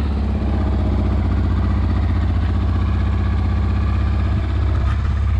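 A Honda Transalp motorcycle engine, still on a little choke, idles with a steady, close-up, low throbbing rumble that holds an even rhythm throughout.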